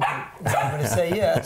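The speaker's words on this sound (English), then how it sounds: "We got two dogs, so that's going to be the noise you hear in the background." Two household dogs barking in the background of an indoor studio-style recording, with yips and barks mixed under a person speaking throughout.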